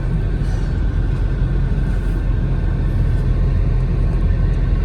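Cars crawl both ways along the narrow, hilly Rishikesh bypass road, producing a constant low traffic rumble and engine hum that stays even and fairly loud, with no individual vehicle standing out.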